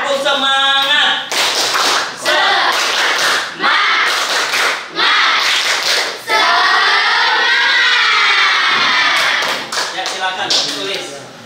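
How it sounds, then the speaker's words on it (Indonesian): Students in a classroom doing a rhythmic spirit clap, bursts of patterned hand claps and taps in groups, broken by short pauses, with voices chanting and talking loudly among the claps. "Ayo, tepuk semangat."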